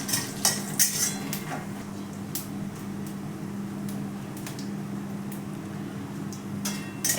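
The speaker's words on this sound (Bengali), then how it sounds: "তো এবার এটা আমি একটু নেড়ে নিয়েছি" Tempering spices of radhuni, cumin, lentil dumplings, dried chilli and bay leaf being stirred in a pan: intermittent scraping and clinking of a utensil against the pan over a steady low hum and sizzle.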